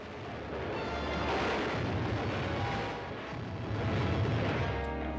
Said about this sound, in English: Big stuff blowing up everywhere.